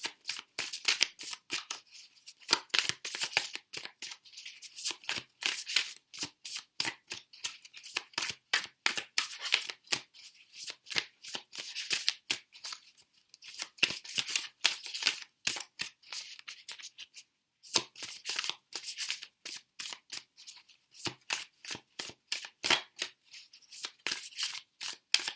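Tarot cards being shuffled by hand, a long run of rapid crisp riffling and flicking bursts in quick rhythmic succession with brief pauses, close and clear with no talking.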